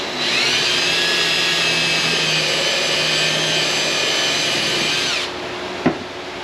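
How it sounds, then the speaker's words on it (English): A power drill whines steadily for about five seconds while drilling a pilot hole, then spins down, followed by a single faint knock. "I'm going to drill a pilot hole first"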